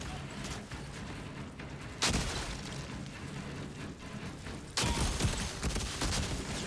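Bursts of gunfire in the video game Outriders, with dense rattling volleys that jump louder around two seconds in and again near five seconds, carrying on without pause over a busy battle backdrop.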